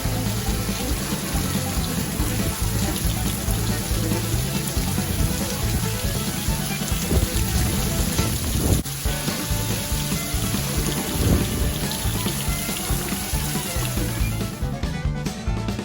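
Heavy rain from a severe thunderstorm with nearby lightning at the Twin Lakes Catfish Farm pours down as a dense, loud, unbroken hiss, with no letup.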